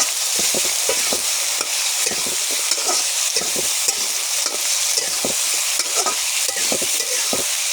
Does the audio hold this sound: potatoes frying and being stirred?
yes